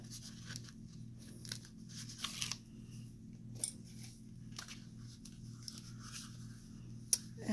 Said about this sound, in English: I'm going to remove the tape from this one.